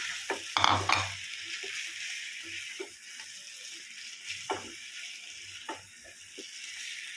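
Chicken frying in a pan with ginger-garlic paste and onion, a steady close sizzle broken by a few louder clinks and scrapes of stirring, with no talk.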